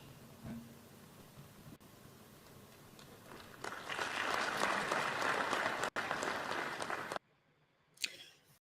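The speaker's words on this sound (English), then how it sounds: "The applause are very reluctant." Sparse, reluctant applause from an audience at a political address, faint at first, then swelling into a steady patter of clapping for a few seconds before cutting off abruptly, followed by a brief final burst.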